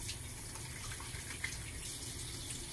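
A faucet runs steadily while hands are scrubbed beneath it, working under the nails and between the fingers; a soft, even gush of water, fairly quiet and continuous throughout.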